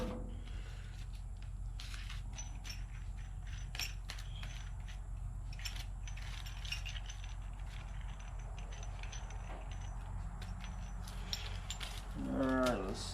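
Ratchet clicks working a fitting on a Cummins-swapped Squarebody truck, a steady run of small metallic ticks over a constant low hum, with a brief louder rattle near the end.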